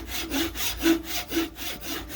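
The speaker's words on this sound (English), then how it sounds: "cut this off with a handsaw" A handsaw cuts the end off a wooden baseball bat, steady back-and-forth rasping strokes about every half second, close and fairly loud with no talk.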